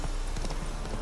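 Hooves of the horse Roach clip-clop at a gallop in The Witcher 3, a quick, dense run of close, loud strikes with no pauses.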